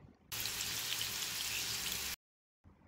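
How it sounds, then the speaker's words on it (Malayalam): Fish fries in hot oil in a pan while a fish biryani is cooked, a dense steady sizzle and crackle lasting about two seconds, then a sudden cut to silence and a faint return. "2 സൈഡും തിരിച്ചു മറിച്ചു വിട്ട് ഫ്രൈ ചെയ്യണം"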